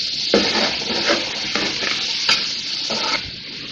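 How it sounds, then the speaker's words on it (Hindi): Spices sizzle and fry in a pot for beef yakhni pulao while a spoon stirs them, a loud, steady hiss broken by several rhythmic scraping strokes, close up with no voices. "भूनेंगे मसाले को।"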